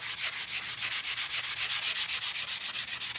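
A small piece is hand-sanded with quick, even back-and-forth strokes, a close, soft, rhythmic scratching of about twenty passes with no one speaking.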